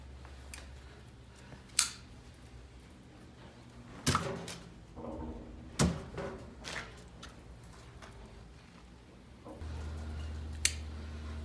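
Wires on a salvaged washing machine motor being cut, giving a few sharp, separate snips spread across an otherwise quiet room, followed by a low steady hum near the end.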